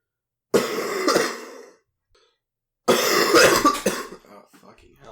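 A man on a podcast mic coughs and clears his throat in two loud, close bursts separated by a short silence, with no speech.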